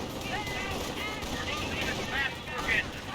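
Rifle fire in a Company of Heroes 1 battle, with Volksgrenadiers shooting at a rifleman squad: a continuous clatter of shots and bursts layered over a busy battlefield, with a commentator talking over it.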